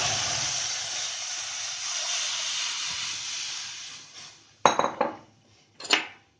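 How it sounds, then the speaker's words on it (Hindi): A loud sizzle and hiss fades as tamarind pulp goes into a wok on a gas stove, followed by two sharp metallic clanks of a utensil against the wok. "अब गैस पे कढ़ाई रखेंगे और उसमें डाल देंगे ये इमली का पल्प"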